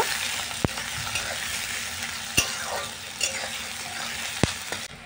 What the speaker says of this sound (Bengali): পেঁয়াজটাকে আমি খুন্তির সাহায্যে একটু ভালো মতো নেড়ে চেড়ে নিচ্ছি